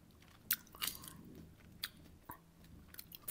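Someone chews a homegrown grape harvested in a UK garden. A few soft, irregular bites and squishy chewing sounds come close to the mic, quiet, with no speech.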